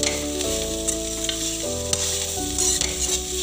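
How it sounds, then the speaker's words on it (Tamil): Vegetable curry with fennel powder sautés in a pan, a loud continuous sizzle with stirring, layered under steady background music. "அது சோம்புத்தூளை வந்து இதில் சேர்த்துக்கலாம். கொஞ்சம் வதக்கி வச்சுக்கலாம்."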